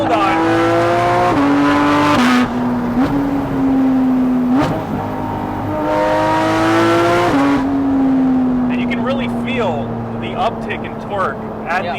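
A Porsche 718 Cayman GT4 RS, its engine and aftermarket exhaust running on a dyno, rises loudly through the revs in pulls with brief gear shifts, then tapers off while people talk over the fading engine.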